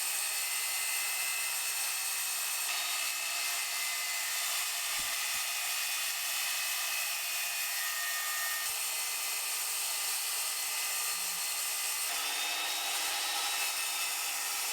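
A power saw cuts Baltic birch plywood for a music studio desk, a loud continuous high whine that holds steady and close for the whole stretch with only slight shifts in pitch, no voices.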